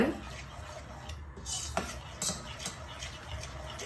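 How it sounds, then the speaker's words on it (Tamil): A spoon scrapes and knocks against a pot of apple jam in irregular strokes, soft clinks and light scraping over a quiet background. "நல்லா மிக்ஸ் பண்ணிகிட்டே இருங்க."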